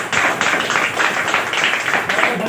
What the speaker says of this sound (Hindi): एक शानदार खतरनाक जोरदार ताली हो